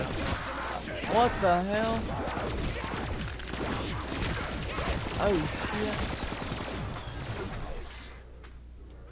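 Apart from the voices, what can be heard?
fireworks exploding in a video game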